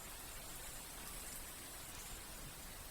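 Steady rain falls as a story sound effect, a soft continuous hiss of drops pattering on a surface, even and unbroken with no voices.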